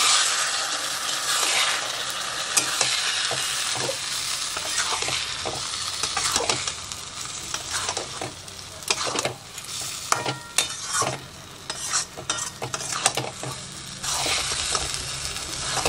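Masoor dal masala sautéing in a pan with a little added water, a steady sizzle broken by repeated scraping and stirring strokes of a spoon against the pan, close and fairly loud, with no talking.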